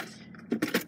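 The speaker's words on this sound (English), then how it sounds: "I'm looking for the keys, for her keys." A close, brief metallic jangle of keys being rummaged for, several quick rattling bursts within about a second.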